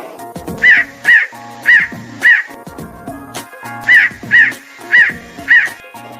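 A crow caws loudly nearby in two runs of four harsh, evenly spaced calls separated by a short pause, in a cartoon.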